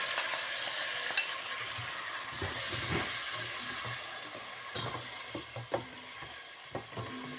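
Potatoes and carrots fry in a pan with a steady hiss of sizzling oil, overlaid by occasional soft stirring knocks and scrapes, close and quiet.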